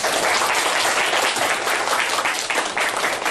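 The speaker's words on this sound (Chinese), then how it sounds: "那就请大家以最热烈的掌声欢迎我们今天的 speaker 讲者陈永仪陈教授。" Sustained, dense applause from an audience at a science lecture, welcoming the speaker, loud and even throughout with no talking over it.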